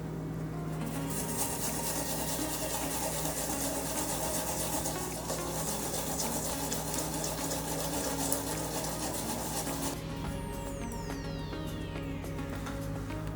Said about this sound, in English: We're gonna grind the ginger.